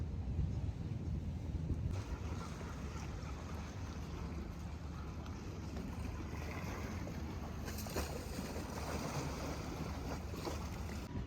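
A boat carries passengers across open water between towns near Venice, with a steady low engine rumble, wind buffeting and water wash running loud and unbroken throughout.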